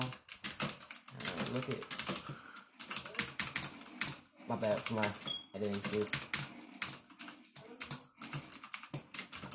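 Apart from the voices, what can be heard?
typing on a new Onn Walmart computer keyboard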